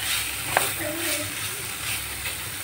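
Gravy poured into a pan of sizzling snakehead fish curry, giving a steady close frying hiss with a soft splash and stirring.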